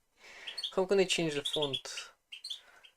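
Pet birds chirp indoors in the same room as a person speaking, their quick high tweets and trills mixing with and following the talk.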